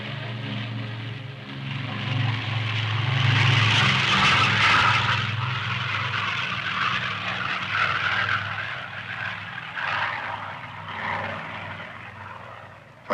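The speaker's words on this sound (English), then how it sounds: "Finally, time for takeoff." Aircraft engine droning loudly through takeoff, a steady propeller-driven roar with strong low hum that swells and eases slightly over the run.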